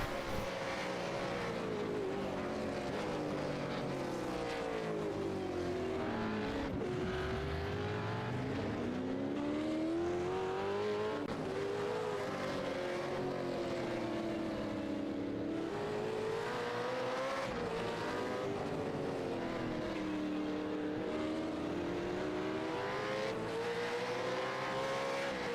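Australian V8 Supercars race on the Detroit street circuit, their engines roaring loudly and continuously as cars pass with rising and falling pitch, with occasional tire squeal.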